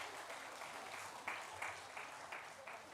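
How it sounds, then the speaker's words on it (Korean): A church congregation at a Sunday worship service claps together, a soft, diffuse patter of many hands with a few slightly louder bursts, heard from a distance and fairly quiet. "박수."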